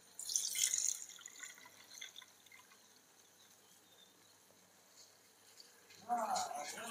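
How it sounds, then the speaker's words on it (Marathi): Water is poured off from a cooking pot while making a tur dal and jujube (bor) kanor, with a quiet splashing trickle near the start and another brief splash at the end. "तर यातलं पाणी मी आता काढून घेते"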